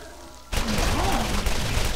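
Rapid gunfire bursts in the Borderlands shooter game, dense and continuous after a quiet start, with a voice talking underneath.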